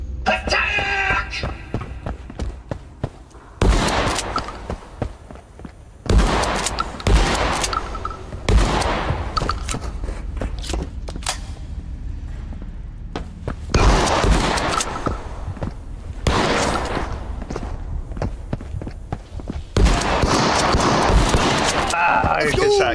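Bursts of rapid gunfire crackle in the Escape from Tarkov Arena video game, loud volleys separated by brief lulls, while players talk over the action.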